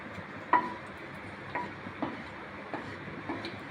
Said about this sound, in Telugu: ఆయిల్ హీట్ ఎక్కిన తర్వాత ఎండుమిర్చి వేసుకోవాలి